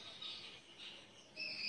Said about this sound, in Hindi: पंछी की चहचहाने की आवाज़ आ रही है,